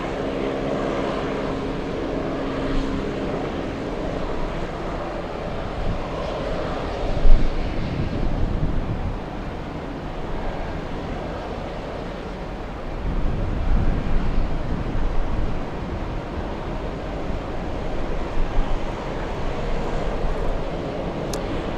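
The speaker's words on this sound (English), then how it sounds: "Virgin 157 landing right now." A Virgin airliner, flight 157, lands under a steady broad engine roar with wind buffeting the microphone, a low continuous rumble that swells around the middle and stays distant and even throughout.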